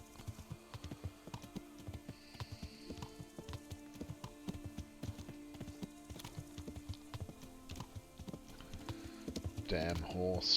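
Horse hooves clop in a steady, rhythmic gait in the video game Kingdom Come: Deliverance, moderately close and fairly quiet, with a louder burst of game sound near the end.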